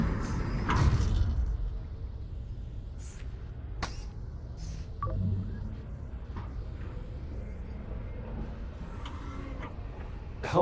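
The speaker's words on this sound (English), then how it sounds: "Door powered up." A powered sliding door in the Lone Echo 2 video game opens with a sharp mechanical thunk followed by a low whooshing slide and a few metallic clanks, fairly loud and close amid ambient game hum.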